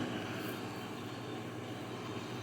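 A Haier refrigerator compressor runs after three months switched off, giving a steady, even hum with broadband whirring noise that holds constant throughout, close by and alone.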